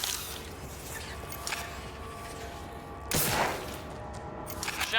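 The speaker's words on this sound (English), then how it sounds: "Shotguns are good for the big spiders." Shotgun blasts from the video game Creatures of War, fired at giant spiders: one sharp, loud report near the middle, with fainter shots and gritty impacts around it over a steady game backdrop.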